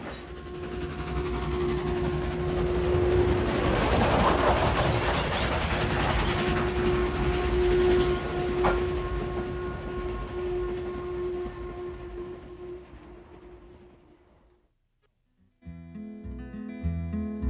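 A train rumbles past nearby with a steady low drone and sustained tonal hum, fading toward the end before a brief different sound cuts in.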